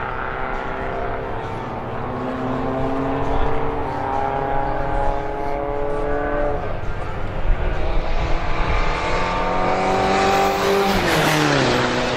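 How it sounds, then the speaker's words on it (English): At a national motorsport endurance race, a race car pulls back out onto the circuit with a loud, rising engine note, while a commentator talks over the sound for the whole stretch. "Dash Racing, we see they're heading back out onto race circuit."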